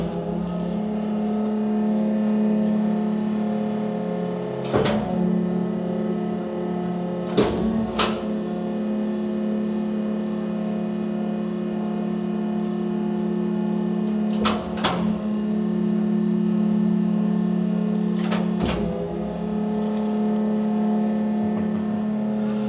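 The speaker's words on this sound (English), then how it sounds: "The scraper and the slide plate, they are continuous working to collect the garbage into the garbage compactor." Isuzu EV100 electric garbage compactor truck with its scraper and slide plate running continuously: a steady mechanical hum with a strong low drone, broken by a few sharp clunks as the plates shift, close and fairly loud.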